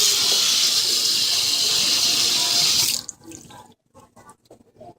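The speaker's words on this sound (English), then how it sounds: "Wash my cilantro." Tap water runs steadily from a kitchen faucet over fresh cilantro for about three seconds, a loud broad rush that stops abruptly, followed by a few faint handling taps and shakes.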